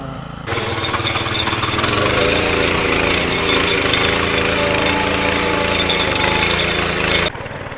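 Farmasia power weeder engine running steadily and loud at close range while its tines churn through hard soil, a continuous rattling drone that starts abruptly and cuts off near the end.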